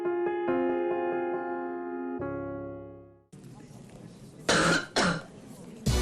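Two loud, wet coughs from a spot advertising Flegamax, a medicine for wet cough, follow a few seconds of tonal music and sit close together over a noisy background.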